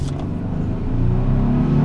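A 2016 Nissan Frontier Pro4X crew cab V6 4x4 pickup accelerating from a launch, giving a close, steady engine drone that builds slightly in pitch and loudness toward the end, with no talk.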